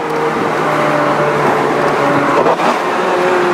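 Steady, loud engine drone of a Ferrari F430 Scuderia 16M while driving, holding a sustained harmonic tone at cruising revs from close inside the cabin, with no voices.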